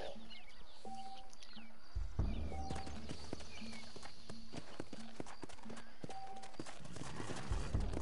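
Horse hooves clip-clop steadily in the Red Dead Redemption video game, a close, regular trotting rhythm running throughout, with occasional birdsong and a brief whinny in the background and no talk over it.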